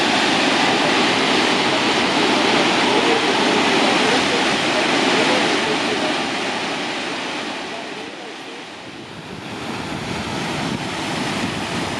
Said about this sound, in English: this is the view of the waterfall